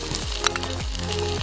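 Tomato halves frying in a pan at a rustic Himachal cooking spot, a steady close sizzle with occasional stirring scrapes, heard alone without talk.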